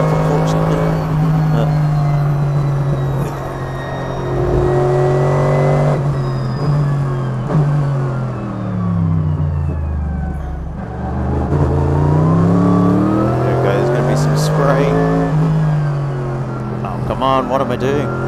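A 2020 Mercedes-AMG GT3 race car's engine drones loudly on track in cold, damp conditions, its pitch rising and falling through revs and gear changes, with a voice talking over it at times.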